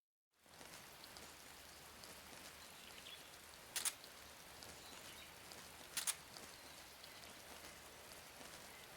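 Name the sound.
rain falling, from a video game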